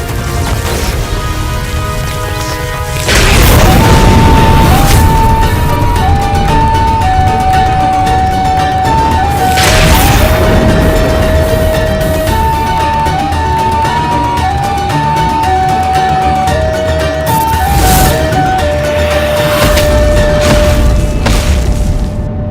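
A loud, booming blast bursts out over a sustained dramatic musical drone, followed by more crashing surges, dense and overpowering throughout.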